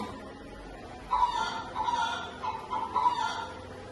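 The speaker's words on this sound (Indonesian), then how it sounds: "suara ayam betina" A hen clucks in a series of short, nasal calls, repeating in loose bursts close to the listener with a quiet background.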